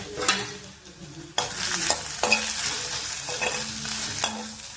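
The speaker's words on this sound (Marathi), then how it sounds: "गॅसवर कांदा छान गुलाबी परतून घेऊ।" Onion and curry leaves sauté in a pan on a gas stove, a steady close sizzle with repeated scraping stirs and a few sharper knocks of a spoon against the pan.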